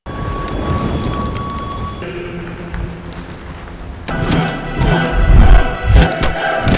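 Heavy rain pours through a fight scene, a dense, loud hiss with thundery rumbles and sharp impact-like bursts that grow stronger in the later seconds.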